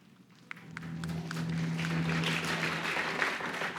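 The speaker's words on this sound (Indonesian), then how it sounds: "Siapa suruh tepuk tangan?" Church congregation applauding during a sermon, the clapping swelling from scattered claps into a fuller, steady round over a low hum, moderately loud.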